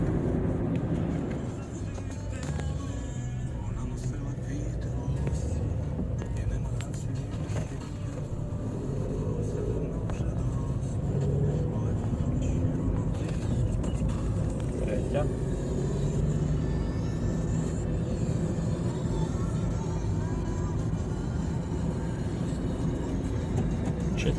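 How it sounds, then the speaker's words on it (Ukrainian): A 2005 Renault Scenic 2 accelerates while driving, its steady engine and road noise rising as the car gains speed, with someone talking throughout over the drone. "даємо газу. Порядок щеплення, порядок не буксує, нічого, набирає швидкість хорошо."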